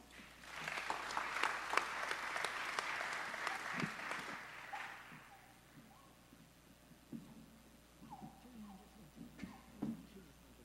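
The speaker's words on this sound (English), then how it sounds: "Please give up another round of applause for Jeffrey Robinson." Audience clapping for a panel moderator at a reparations event, a moderate round lasting a few seconds before fading into quiet room sounds and a speaker's voice.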